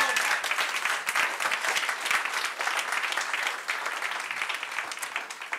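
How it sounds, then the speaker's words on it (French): An indoor audience gives steady, dense applause at an evening show, with many hands clapping at close range and the sound fading slightly toward the end. "On l'applaudit, s'il vous plaît."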